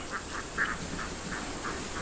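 Goose calls repeat at the Arzni sanatorium grounds, with a series of short, nasal honks spaced roughly every third of a second at moderate distance over steady background noise and no talking.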